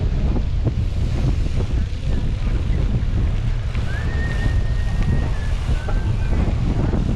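Steady broadband wind buffets the microphone by the seafront near a mall, with low rumble and lapping surf underneath and a thin tonal whine drifting in midway.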